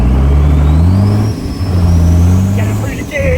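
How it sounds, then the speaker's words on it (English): Cummins diesel-powered limousine accelerating hard through the gears, a loud close engine roar with rising and falling harmonic bands as each shift drops the revs, with voices talking over it. "Get it through the gears here."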